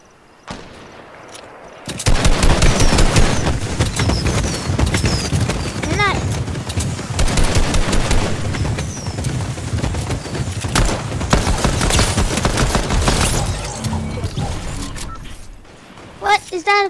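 AK rifle gunfire in a video game rings out in rapid bursts and single sharp cracks, loud and close, repeating over many seconds with some voices underneath.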